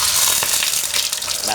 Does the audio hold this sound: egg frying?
yes